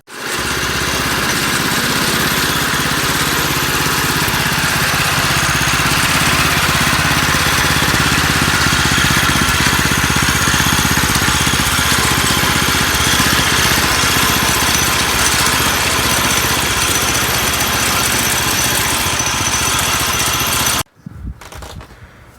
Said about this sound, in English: It idles great, and I'll show you that in the video. It's just sitting here idling.